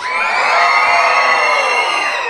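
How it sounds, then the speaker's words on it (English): A theater audience at a Magic Kingdom comedy show screams and cheers loudly, many high, overlapping voices forming a dense, sustained roar from start to finish. "Let me hear you scream!"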